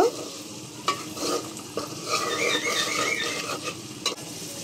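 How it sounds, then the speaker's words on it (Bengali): Pieces of fried fish sizzle in a pan of cooked-down spice paste as a spoon stirs and scrapes through them, with a steady crackle and a few sharp clinks, no speech. "এখন এই কষানো মশলাটার মধ্যে ভাজা মাছগুলো দিয়ে"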